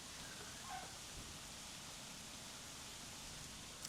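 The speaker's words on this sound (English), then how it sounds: "That noise of rain is just magic." Steady, soft rainfall hisses evenly throughout over a cottage garden, a gentle continuous patter with no voices.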